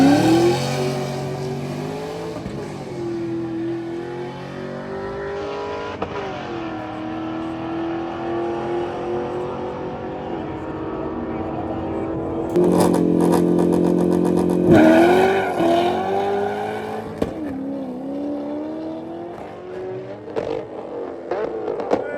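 A Toyota Supra drag racing car revs and accelerates hard, its engine note climbing and dropping through repeated gear changes, loud and close, with a rougher burst of clatter midway and a fading rev at the end.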